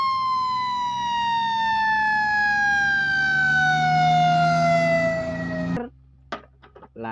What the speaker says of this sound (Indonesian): Ini adalah si mobil damkar yang membawa pipa air.